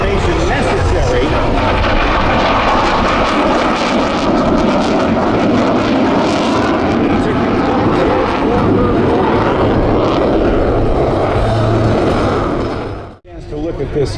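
An F-35C jet fighter roars loudly and continuously as it flies at the Bethpage Air Show, a dense, sustained rush of engine noise that cuts off abruptly near the end.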